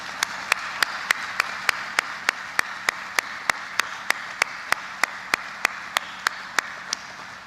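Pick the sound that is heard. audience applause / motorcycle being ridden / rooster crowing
audience applause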